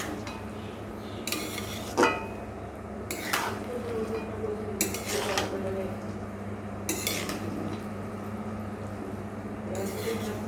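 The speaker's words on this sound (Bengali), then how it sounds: "একটু নেড়ে নেব।" Moong dal being stirred in a cooking pot, with a spoon clinking and scraping against the metal in several separate bursts over a low steady background hum, close by and moderately quiet.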